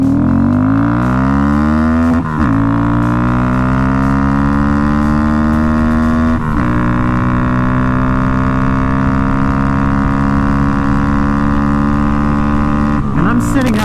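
A Honda Grom motorcycle with a DHM Stage 3 kit accelerates hard in first gear, its engine note climbing steadily in pitch through loud, close revving runs, with brief drops at each shift and wind rush throughout.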